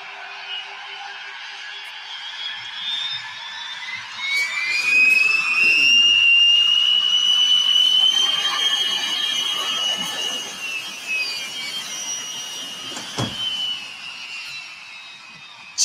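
An Airbus A380 taxiing on a runway gives a steady, distant jet engine whine that slowly rises and falls in pitch, heard alone without talk.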